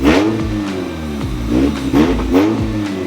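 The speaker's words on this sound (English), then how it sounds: "Give it a little rev for the boys" A B-series-swapped car engine with a new distributor revving up and down several times in quick succession, loud and close, with a rough idle between blips.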